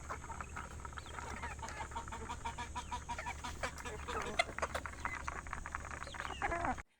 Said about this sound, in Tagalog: Malapit nang i-harvest ang mga manok dito kaya lalagyan na ni Jayfer ng mga tali sa paa.